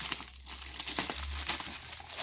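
A package is handled and cut open with a pair of scissors, giving close plastic crinkling and rustling with a few sharper snips and tears, faint and without speech.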